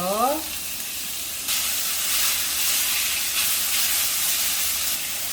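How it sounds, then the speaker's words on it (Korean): Cut potatoes tip into hot cooking oil in a wok with a burst of sizzling, settling into a steady frying hiss that swells louder partway through and keeps crackling. "웍에 불을 켜세요. 식용유 두 스푼, 이제 감자를 넣으세요."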